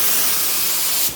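A spray gun lays down PPG sealer on small parts of a 1976 Trans Am in one continuous, close, loud hiss lasting about a second before cutting off.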